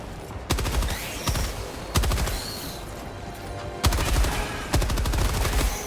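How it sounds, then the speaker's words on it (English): Machine gun fire in a first-person video game, several loud sustained bursts of rapid shots separated by short pauses, close and dominant. "I need to use the machine gun"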